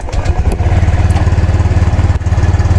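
A Honda Click 125 V3 scooter engine, misfiring and hard to start, catches and settles into a loud, close, rhythmic idle with a steady pulsing putter and a brief stumble partway through.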